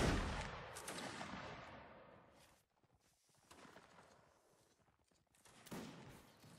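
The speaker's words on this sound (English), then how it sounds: "Line hold, left face. Present. Fire at will." A volley of musket fire from a Napoleonic line infantry formation in Mount & Blade: Napoleonic Wars, a loud dense crash opening the moment, then scattered shots and a fresh burst of fire later.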